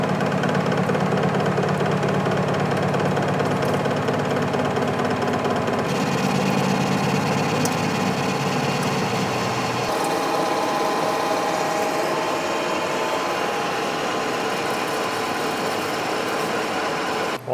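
A vertical shaper machines a shop-made tool holder in a steady, loud mechanical drone with a rhythmic churning texture. The tone shifts twice as the cut progresses, and no one speaks.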